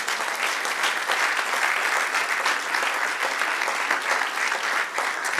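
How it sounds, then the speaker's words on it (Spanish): Church congregation bursts into steady applause during a Spanish-language sermon, a thick continuous roar of many hands clapping at even loudness for the whole stretch. "Dale un aplauso a nuestro Dios."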